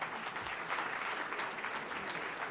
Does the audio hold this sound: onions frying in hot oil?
no